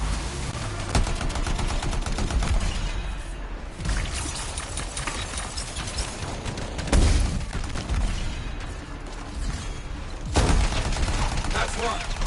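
Sustained automatic gunfire rattles against enemy turrets in the video game Anthem, rapid and loud for the whole stretch, with a few heavier booming bursts and some game voices mixed in.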